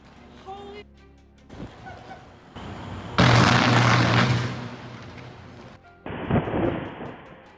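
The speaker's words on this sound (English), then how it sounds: "power lines exploded like fireworks during a violent storm." Power lines explode during a violent storm in Luquillo, producing loud, crackling booms and bursts of roaring noise in several abrupt segments, the biggest lasting about two seconds.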